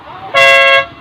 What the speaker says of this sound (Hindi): ये अभी हॉर्न बजा रहे